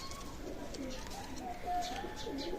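Pakistani Teddy breed pigeons coo close by in soft, rolling, repeated calls, several overlapping, with faint background noise.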